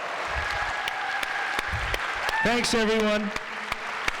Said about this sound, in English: give a big round of applause to the amazing LOCHLYN MUNRO